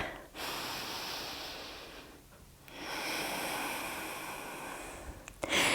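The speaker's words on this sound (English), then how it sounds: "Take a deep breath." Deep yoga breathing is heard up close: a long, loud inhale, a pause, then a second drawn-out breath that fades, ending with a short sharp sniff.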